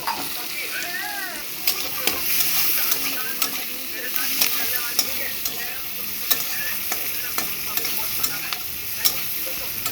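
Carrots stir-frying in a pan for meghi make a steady crackling sizzle, with repeated sharp clinks of a spatula scraping the pan at irregular intervals.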